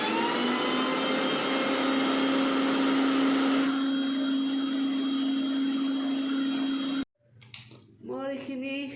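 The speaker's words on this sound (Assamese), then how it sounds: "আৰু এইবাৰ মই মিক্সাৰত দিম।" An electric mixer grinder whirs loudly and steadily as it grinds chopped coconut, its motor pitch dropping slightly partway through before it cuts out abruptly near the end, followed by a short burst of speech.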